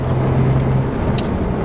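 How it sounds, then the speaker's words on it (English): Nissan 300ZX sports car revving as it gets ready to launch for a 0-60 run, a loud steady engine drone heard close up with a brief held tone early on. "He's trying to figure out how to launch your car so we can do some 0-60 times."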